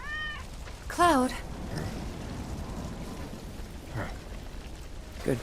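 A cat gives a single clear meow in the video game Final Fantasy VII Remake, close and distinct over a faint rain-like hiss, with brief soft sounds following afterward.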